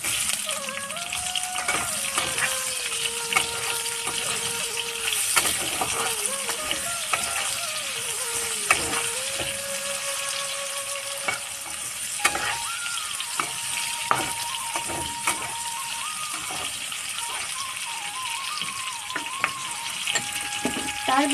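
Chopped onions fry steadily in a pan as the base for a butter chicken gravy, a continuous close sizzle with occasional stirring scrapes and clinks throughout.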